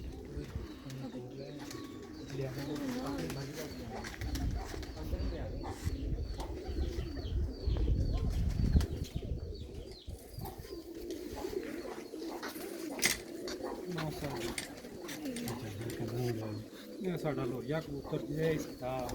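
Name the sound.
Sialkoti female pigeon cooing and flapping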